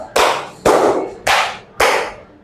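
Four sharp, loud unison claps from an audience playing a clapping focus game, evenly spaced about half a second apart, each ringing briefly, close and clear without talk.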